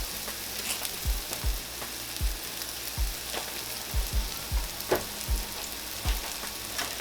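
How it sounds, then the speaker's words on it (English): Olive oil sizzles in a pan for beef stroganoff, a steady close hiss with frequent soft pops and spatters, and no talk over it. "we're going to add a little bit of olive oil into this as well"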